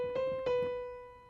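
The second right-hand melody fragment of a piece, played on piano in an easy version: two short groups of struck notes, then a held note that decays gently, clear and close with no voices.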